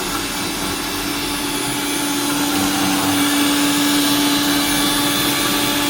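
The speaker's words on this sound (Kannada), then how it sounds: "3 ನಿಮಿಷ ಒಳ್ಳೆದಾಗಿ ಬ್ಲೆಂಡ್ ಹಾಕಿ" A blender runs steadily and loudly, whirring egg and sunflower oil into homemade mayonnaise, a continuous high-pitched motor drone with no pauses or talk.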